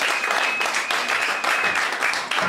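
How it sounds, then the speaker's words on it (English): Crowd at a film event applauding, loud sustained clapping from many people close by, filling the whole stretch in even waves with a faint tonal whine running underneath. "Another round of applause, please."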